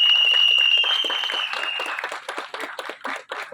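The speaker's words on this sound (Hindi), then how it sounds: "मुकेश भट्ट साहब के लिए जोरदार तालियां हो जाए" Applause for Mukesh Bhatt at a trailer launch event, a crowd clapping in a dense patter that fades slightly as it goes, with a sustained tone over the start.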